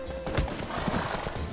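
Hoofbeats of Geralt's horse Roach in The Witcher 3 sound in short uneven clomps amid busy game effects, with no clear neigh standing out.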